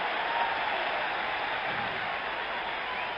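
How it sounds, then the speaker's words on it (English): A baseball crowd at Yankee Stadium during Game 6 of the 1977 World Series cheers and applauds, a steady, dense, distant roar of applause holding even throughout with no clear talk over it. "This Yankee crowd will be roaring all night"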